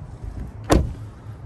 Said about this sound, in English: Those mirrors are gonna fold for you automatically.